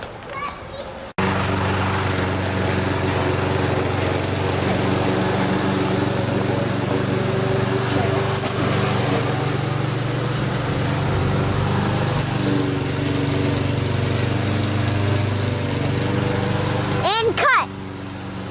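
A push lawn mower runs steadily and close by as children argue over who gets to push it, its droning engine holding through the whole stretch beneath the kids' voices.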